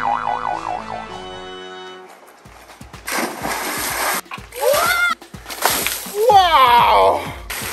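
Kids and an adult take turns splashing in a swimming pool, with loud bursts of water from about three seconds on, following an opening stretch of bouncy cartoon-like music, and excited children's voices and cheering throughout.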